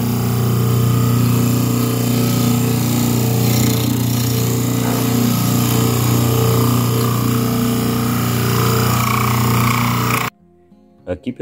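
A homemade lathe turns a small toy car steering wheel, a loud steady motor whine with grinding cutting noise throughout, stopping abruptly near the end, followed by a few faint knocks.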